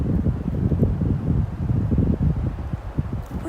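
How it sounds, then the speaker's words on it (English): Outdoor wind gusting across a Colorado disc golf course, a loud, continuous low rumble buffeting the microphone close up, with no voices. "the wind's picking up a little bit"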